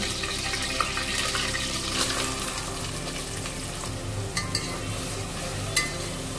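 Onion sautés in hot oil with a bay leaf for a chicken biryani, giving a continuous loud sizzle with occasional stirring scrapes and clinks.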